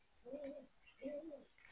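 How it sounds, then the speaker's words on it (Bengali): Pigeons give two soft, faint coos in quick succession, each a short rolling warble, with no one talking. "অনেক সুন্দর কবুতর"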